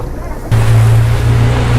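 A boat engine kicks in abruptly and drones loudly and close on the sea near St Mary's Island, Udupi, a steady low hum over rushing water and wind.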